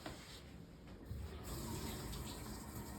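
Casting material being soaked in warm water, with a steady running, filling water sound that swells louder after the first second and continues close by.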